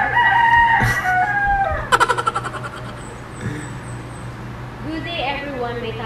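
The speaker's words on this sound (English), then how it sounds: "because of the chicken that she is raising, always making a sound." Backyard chickens raised at home, with a rooster crowing loudly in a drawn-out call and hens clucking and squawking in short bursts, close to the microphone over a steady low background hum.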